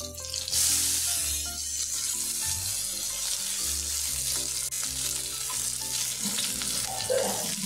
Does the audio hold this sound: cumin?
yes